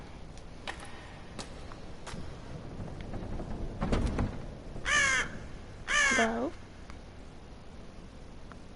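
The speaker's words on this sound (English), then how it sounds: "A bird cry breaks the silence. I guess there's a crow or something outside." Crow cawing outside in the video game Death Mark, two loud harsh caws a second apart following a rumbling thud and faint ticks, with a brief spoken word near the start.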